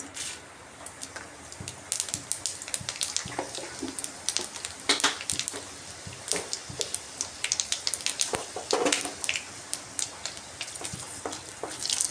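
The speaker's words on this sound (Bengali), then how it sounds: "সরষের তেলের মধ্যে দিচ্ছি শুকনো লঙ্কা ফোড়নে আর দিচ্ছি পাঁচ ফোড়ন" Dry red chillies and five-spice seeds temper in hot mustard oil, giving an irregular crackle and spatter of sharp pops that grows busier as the seeds fry.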